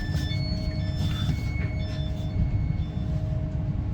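Steady low rumble of a TransPennine Express train passing nearby on the west coast line, continuous and loud throughout with faint high squeals of rails on top.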